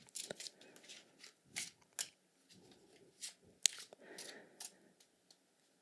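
Tarot cards being shuffled by hand, soft irregular riffles and flicks in quick bursts, close and quiet, with short pauses between them and no talking.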